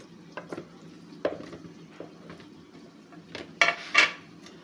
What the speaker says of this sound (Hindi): ये सारे लेग पीस को मैंने एक बाउल में डालना है।